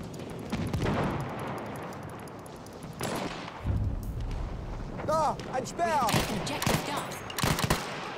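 Battlefield 1 assault gun on semi-auto with bipod firing at a sniper during Xbox One Conquest play: dense overlapping gunfire and distant battlefield booms, with rapid bursts of shots near the end.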